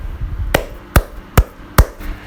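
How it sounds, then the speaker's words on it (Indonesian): Four sharp, evenly spaced claps ring out alone, each a crisp broadband smack about half a second apart. "bunyi yang kedua adalah bunyi ketika kita bertepuk tangan"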